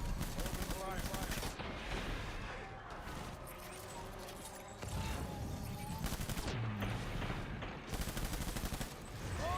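Sustained gunfire in the Death Stranding video game, dense rapid bursts rattling continuously with shouted voices and radio-style talk mixed in throughout.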